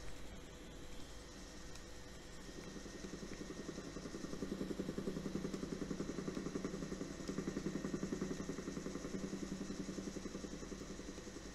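A helicopter flying between Brest and Scaer drones steadily from inside the cabin, with a dense engine roar and a rapid rhythmic rotor beat that persists loud throughout, no talk over it.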